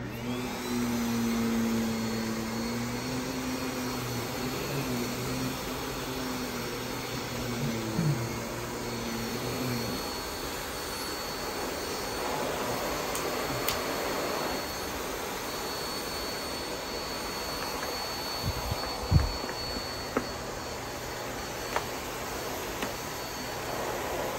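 A Miele vacuum cleaner runs steadily with its power brush switched on, a loud continuous motor whine with a low tonal hum early on and a few brief knocks, with no talking.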